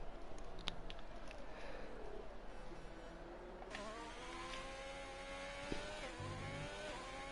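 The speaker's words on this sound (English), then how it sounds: "The sound of that Ferrari engine." Ferrari engine in a racing video game at the Abu Dhabi circuit: a faint, steady revving drone with rising and falling gear-change pitch sweeps over a constant background hum, with no speech.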